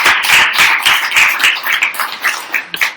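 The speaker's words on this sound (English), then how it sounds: "Round of applause for Ryan" A small group claps for a guest named Ryan on a live show in Los Angeles, a short run of distinct, close hand claps that ends after about three seconds.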